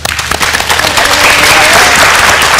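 A studio audience gives Dr. Sharma a dense round of applause. It is loud and close and holds steady for the whole stretch.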